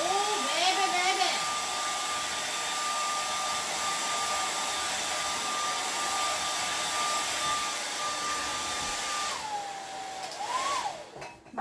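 A hair dryer runs steadily and fairly loud with a constant whooshing airflow and a faint steady whine, while a voice talks briefly near the start and the end.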